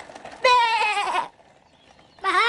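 A cartoon lamb gives two wavering, nasal bleats close by, separated by a short pause; the bleats are performed by a voice actor.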